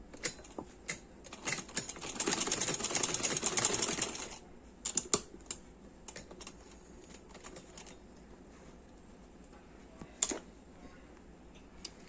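A sewing machine stitches a side-plate frock for a 5–6 year old in one steady burst of about two seconds, then stops. Scattered clicks and light handling noises follow in a quiet room.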